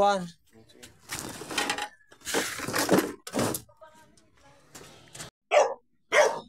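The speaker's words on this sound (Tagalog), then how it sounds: "Look, tapang ng aso." A fierce dog barks in sharp bursts, several loud barks spread across a few seconds, mixed with people talking and faint bird cooing.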